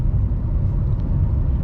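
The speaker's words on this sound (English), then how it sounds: "You can tell right off the bat that it accelerates just great" A 2006 Honda Civic LX with about 200,000 miles accelerates, heard from inside as a steady low engine and road rumble without talk.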